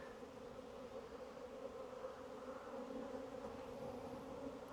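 Dark, defensive honey bees buzzing at an open hive, a steady faint drone of many wings with no pauses, close but soft, with no voices.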